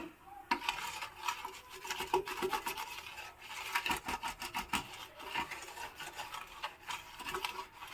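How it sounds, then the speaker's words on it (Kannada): A gas stove burner is scrubbed clean with a brush, giving steady rasping back-and-forth strokes, close and fairly quiet, with no talk. "ನಾನಿವಾಗ ಅಷ್ಟು ಬರ್ನರ್ ಈ ಥರ ಸ್ಟವ್ಗೂ ಈ ರೀತಿ ಹಾಕ್ಕೊಂಡು ತಿಕ್ತಾ ಇದ್ದೀನಿ"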